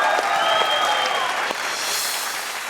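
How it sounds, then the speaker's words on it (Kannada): A studio audience at a comedy show bursts into loud, sustained applause that carries on at a steady level, with faint crowd noise underneath. "ಹೊಡಿರಿ ಚಪ್ಪಾಳೆ."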